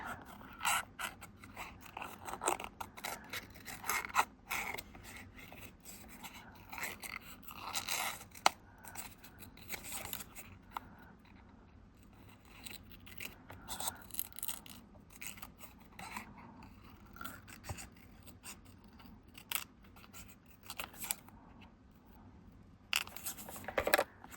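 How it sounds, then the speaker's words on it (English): Scissors fussy cutting around a greeting card piece: quiet, close snips and paper scrapes in irregular clusters over a long stretch, with small pauses and handling noises between cuts. "I am going to just fussy cut around this."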